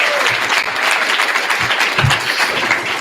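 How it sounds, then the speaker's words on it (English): A crowd at a commencement ceremony applauds steadily, a dense wash of clapping that holds at an even level throughout. "you guys deserve a round of applause"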